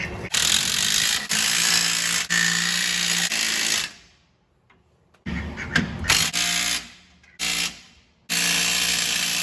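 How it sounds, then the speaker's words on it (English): Ratchet or power tool tightening the leaf spring U-bolts on a 2006 Chevy Silverado truck, heard as dense, loud mechanical clicking and whirring in sustained bursts separated by brief pauses, close by with no talking. "let's get these U-bolts tightened down."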